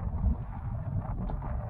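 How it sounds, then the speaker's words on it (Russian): Wind blowing across a frozen lake during ice fishing, a steady low rumbling buffet against the microphone with slight gusting swells, continuous and fairly loud with no talk. "ветер, да?"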